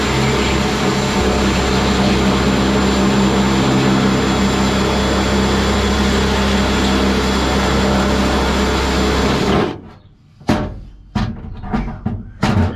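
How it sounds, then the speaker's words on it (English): A power drill running on high bores holes through the bed of a 2009 Ram 1500 crew cab during a toolbox install. It makes a loud, steady whirring roar for about nine seconds, then cuts out, followed by a few short, sharp knocks. "Okay, so I drilled my 4 holes out, man, and I made sure to drill through to mark them on that plastic piece in the bed of the truck."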